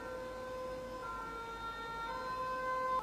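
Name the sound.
emergency vehicle siren, firefighters and ambulances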